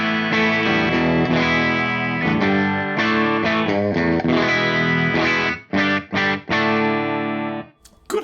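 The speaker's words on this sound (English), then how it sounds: "We're going to start off on the bridge pickup into the clean Engel amp, and it sounds like this." Fender Hybrid II HSS Stratocaster on the bridge pickup through a clean Engl amp, strummed chords and picked notes ringing close and loud, ending with a few choppy muted stabs before fading.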